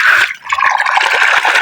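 Water gushes loudly from a pipe once the pump starts, a close, constant splashing rush with brief dips in force.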